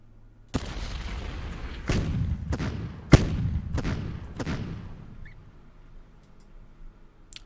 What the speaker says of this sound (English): use the 15th and 17th artillery to clear this